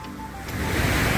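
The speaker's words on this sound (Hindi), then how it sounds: "ये देखिए ऐसे झरने आपको कई सारे मिल जाएंगे सिटी के अंदर, बहुत ही प्यारे प्यारे।" Rushing waterfall at Lonavala hill station in the rainy season, a loud continuous roar of falling water that swells and thickens midway.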